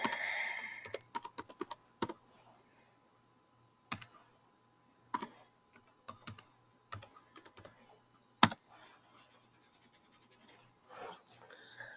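Typing on a computer keyboard to enter a username and password: irregular bursts of crisp, close key clicks separated by short pauses, with no talking.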